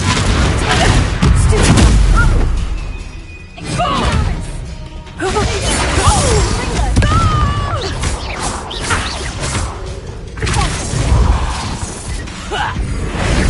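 Confringo blasting spells explode in the Hogwarts Legacy video game, with several loud booms and crashing impacts. Whooshing spell effects and busy game noise fill the background the whole way through.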